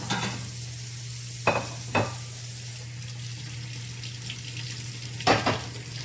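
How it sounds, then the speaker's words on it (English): Potatoes being scrubbed and rinsed clean under water in a kitchen, with steady running water and a few short scraping bursts standing out; no voices. "Scrubbing all the dirt off."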